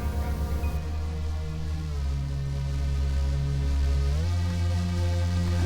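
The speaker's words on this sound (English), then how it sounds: "I introduce a new bass sound." A deep, sustained Juno synth bass drones steadily with layered harmonics, shifting pitch about two-thirds through, without any voices.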